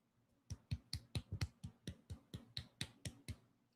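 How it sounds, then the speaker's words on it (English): Soft, polite golf clapping, about fifteen light claps in a steady, even rhythm, close and quiet with no other sound. "Golf clap."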